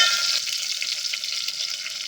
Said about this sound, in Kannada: ಎಲ್ಲ ಚೆನ್ನಾಗಿ ಸ್ವಲ್ಪ ಫ್ರೈ ಮಾಡ್ಕೊಳ್ಳೋಣ.